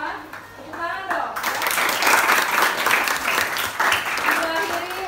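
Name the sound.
students clapping in the classroom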